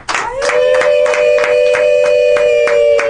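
Rwandan radio-drama audience on Radio Rwanda giving steady rhythmic hand clapping, with a sustained high ululation held over the claps from start to finish, loud and close.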